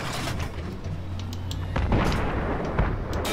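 Tank cannon fire in the Battlefield 3 video game during a tank assault, with loud, close booming shots and rumbling battle noise across a few seconds.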